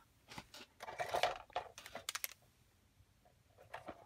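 Scissors snip through paper along a marked line during a craft project, a close run of short crisp cuts in quick bursts, then a pause and a few faint snips at the end.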